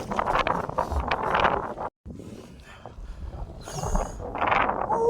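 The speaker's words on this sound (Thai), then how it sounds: "ฝ่าลม" Wind buffets the microphone while out on the water during cast-net fishing in South Korea, a steady gusty roar with a brief dropout, under faint boat motion.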